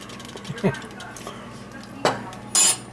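A metal spoon clinks a few times against a pot of clam chowder, with light scattered taps followed by a couple of sharper clinks near the end, fairly close over a quiet kitchen background.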